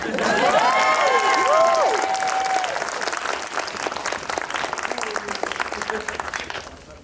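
Loud audience applause and a few cheers greet a cosplayer coming down the stairs at a retro gaming expo cosplay contest, strongest at first and then thinning into scattered clapping that fades out near the end, with brief voices early on.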